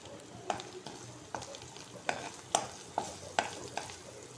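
Crushed garlic, ginger, fennel and curry leaves sautéing in coconut oil, a close sizzle punctuated by regular sharp scrapes of a spoon stirring the pan, no talk.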